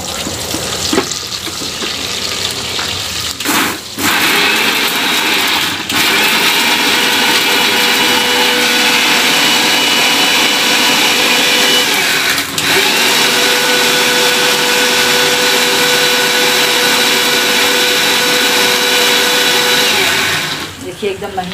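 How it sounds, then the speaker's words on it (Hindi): A mixer grinder grinds tomatoes, whirring loudly and continuously, pausing briefly a few times before running again at full power. "अब हम इसे जब तक ये लाल हो रहा है तब तक मिक्सी में पीस लेते"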